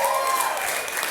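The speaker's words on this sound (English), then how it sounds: "Everybody give Megan a nice round of applause." A brief burst of audience applause, a steady wash of many hands clapping at moderate volume, with a whistle tone briefly over the top.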